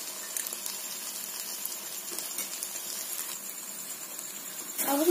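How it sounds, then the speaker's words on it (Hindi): Water is poured into a hot pan of chili paneer gravy cooked with tomato and chili sauce, giving a continuous sizzling hiss with some splashing that swells near the end. "अब हम इसमें पानी डालेंगे, आप पानी अपने अनुसार डाल सकते हैं"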